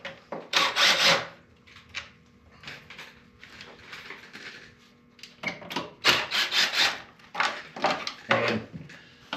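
Plastic clutch air baffle being worked loose and pulled out on a Polaris RZR Pro XP, with repeated close scraping, rubbing and knocking bursts in two busy clusters separated by quieter fiddling.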